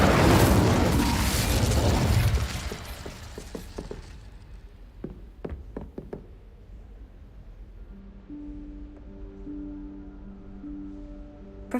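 A fire spell cast in the Hogwarts Legacy game: a loud roaring burst of flame opens, then fades over a few seconds into scattered crackles and soft pops, with a quiet sustained tone lingering afterward.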